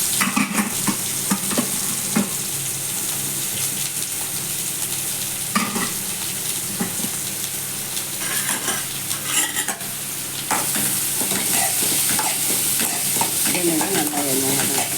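Garlic and dried chilies frying in oil, a loud continuous crackling sizzle with frequent spatula scrapes and stirring clatter, close up throughout.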